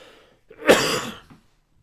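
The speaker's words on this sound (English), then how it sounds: "as I cough again" A single short, rough cough, close and fairly loud, with nothing else around it.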